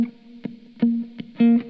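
Funky, muted guitar part for a lo-fi beat, played alone: a few short plucked notes and chords in a bouncy, syncopated rhythm, some held briefly, soft and close.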